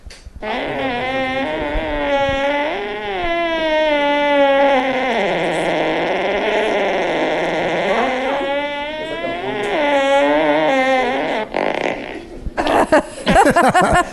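A long comedic fart from the movie Step Brothers stretches on for over ten seconds, loud and close, its pitch wobbling up and down before ending in a few short sputtering bursts.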